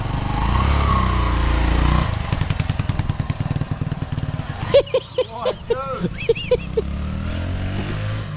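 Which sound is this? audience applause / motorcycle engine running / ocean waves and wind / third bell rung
motorcycle engine running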